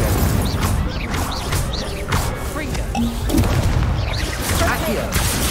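Fire spell cast in Hogwarts Legacy during spider cave combat, a loud whooshing, crackling burst amid constant battle noise with booms and impacts, a voice calling spell names over it.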